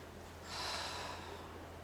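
A single slow, deep breath drawn in close to the microphone, a soft airy swell rising midway and fading, alone in a quiet room.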